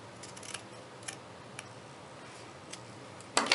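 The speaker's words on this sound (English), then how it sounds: "So I'm gonna snip this off." Scissors make a few quiet snips cutting ribbon off a roll, faint close-up clicks over a hushed room, ending with a louder rustle of handling.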